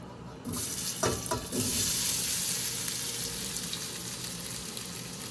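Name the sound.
potatoes added to hot oil in pan, frying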